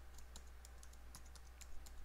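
A password is typed on a computer keyboard as light, quick key clicks in an uneven run over a steady low hum, close by and fairly quiet, with no speech.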